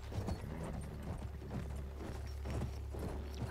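Horse hooves clip-clopping in the World War I shooter Battlefield 1, a quiet run of repeated hoof beats over a low steady background hum, with no talk.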